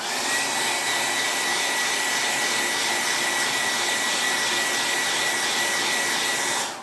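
Hair dryer blowing steadily to dry paint on a Christmas craft piece, a continuous close, loud whooshing roar that holds evenly for the whole stretch before cutting off at the end.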